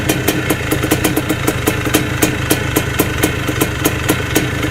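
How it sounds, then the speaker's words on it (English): A 1981 Suzuki RM 250 motocross bike engine idles close and loud, its two-stroke beat sputtering in an uneven, steady rhythm. "The fact that it's idling shows a great sign."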